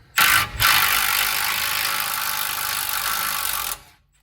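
A ratchet loosens an 18 millimeter bolt during a Rough Country 3-inch lift kit install on a GMC 2500HD truck. It gives one loud, close, continuous run of fast clicking with a short break near the start, and no talk.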